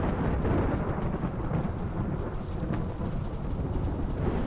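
Rain and thunder from the RimWorld game: steady loud rainfall hissing throughout with deep rumbling thunder rolling underneath, continuous and close, no speech.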